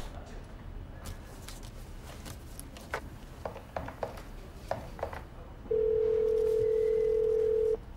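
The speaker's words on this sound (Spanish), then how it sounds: "¿Puedo hacer una llamada?" A landline telephone plays a steady dial tone for about two seconds after a stretch of quiet room noise with scattered soft clicks and taps, heard fairly close.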